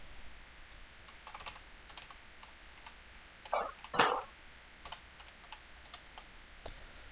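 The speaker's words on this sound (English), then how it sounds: "Let me shrink this down so you can see me actually typing these out" Steady typing on a computer keyboard while writing C# code, soft rapid key clicks running throughout with a brief louder burst of clatter midway, close and quiet with no talking.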